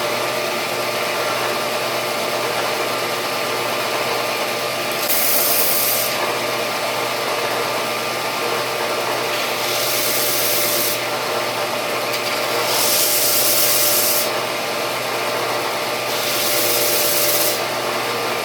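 Steady abrasive sanding on wood, a continuous rough hiss that swells louder in several bursts, close by with no talking.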